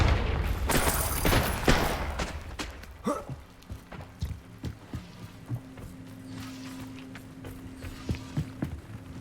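A Confringo spell blast in the Hogwarts Legacy video game: a loud burst near the start, then a series of softer thuds and steps across a hushed game backdrop.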